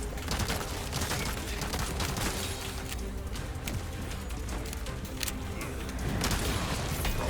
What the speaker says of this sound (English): This gun's pretty powerful